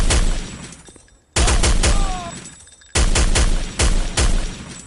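Rapid bursts of mounted turret machine-gun fire in the shooter game Counter-Strike: Condition Zero, loud, close and percussive, several sustained volleys separated by brief gaps.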